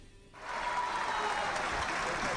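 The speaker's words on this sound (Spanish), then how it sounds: "Y de pronto los congresistas de Fuerza Popular comenzaron a aplaudir" Members of Fuerza Popular in the plenary hall of Peru's Congress break into applause, a soft, steady wash of clapping that starts abruptly and continues evenly, faint and somewhat distant.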